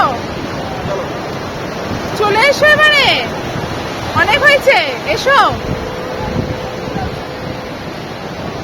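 Sea surf on the beach at Puri washing in as a continuous broad roar with wind buffeting the microphone, while people talk and call out over it.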